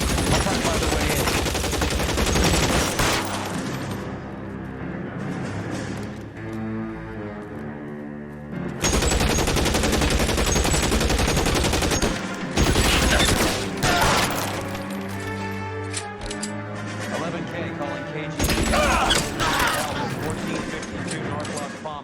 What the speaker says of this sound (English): Shots fired and officers need help at 1450.